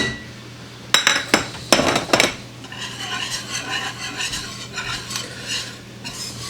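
Flour stirred into a roux in a pan for beer cheese dip, starting with a few sharp utensil clanks against the pan, then steady rhythmic stirring and scraping with faint sizzle, close and with no talking.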